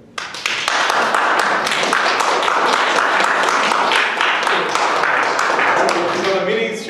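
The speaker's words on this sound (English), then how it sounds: "everybody, a great hand of applause for Azra Leeson" An audience at a secular church service bursts into applause, dense clapping that starts abruptly, holds loud and close for several seconds, then tapers off with faint voices at the end.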